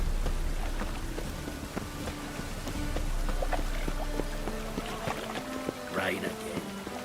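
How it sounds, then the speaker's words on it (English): Steady rain patters on a surface throughout in The Witcher 3: Wild Hunt, with scattered drips and a few muffled, indistinct sounds over the constant hiss. "Rain again."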